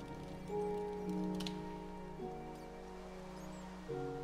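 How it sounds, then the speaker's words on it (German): Rain falls in the Minecraft video game as a soft, steady hiss, heard faintly under sustained tonal background sounds with no one talking. "Warum höre ich hier Wasser?"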